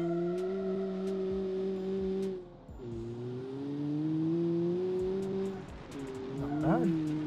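Suzuki Swift in the Automation game, fitted with a replicated 2019 Suzuki Alto sport engine of 138 horsepower, accelerating through gears with a steady rising engine drone, short dips at shifts, and a brief squeal near the end.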